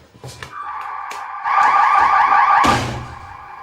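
Alarm sounding inside a mine rescue station during a fire call-out, a steady electronic warbling tone that swells loud from the middle of the clip and cuts off near the end, with brief clatters before it.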